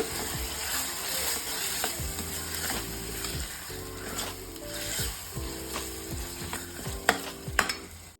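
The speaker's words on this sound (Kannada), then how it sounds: "ಇವಾಗ ಇದನ್ನ ಚೆನ್ನಾಗಿ ಮಿಕ್ಸ್ ಮಾಡೋಣ" A coconut sambar mixture with brinjal and tomato is stirred in a pan, the spoon scraping in repeated rhythmic strokes over a soft sizzle, close and alone.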